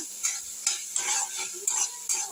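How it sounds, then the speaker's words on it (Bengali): A spatula stirs freshwater snails frying in a pan, giving about five rhythmic scraping strokes over a steady close sizzle. No one speaks. "এইভাবে একটু নেড়ে নিলাম"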